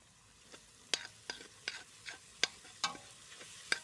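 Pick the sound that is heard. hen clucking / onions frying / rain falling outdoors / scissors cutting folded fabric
onions frying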